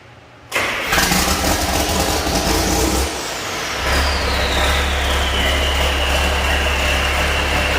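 A John Deere 4440 tractor engine cranks and catches after a fuel filter change and 12-volt conversion, then settles into a loud, steady diesel idle close by, with no one speaking.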